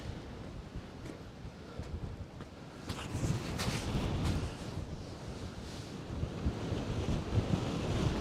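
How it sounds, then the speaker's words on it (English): Strong wind buffets the microphone on an exposed hilltop at Glastonbury Tor, a low rumbling roar that gusts and swells louder partway through, with no talk. "Whoa, so much wind."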